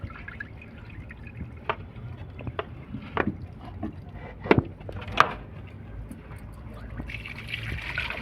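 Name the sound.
pouring out water used to wash fish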